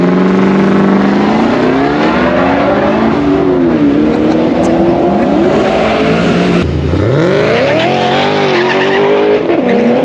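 An FPV 335GT with a water-to-air intercooler accelerates hard, its engine screaming loud and close as revs climb and drop through gear changes, with a sharp shift into second partway through.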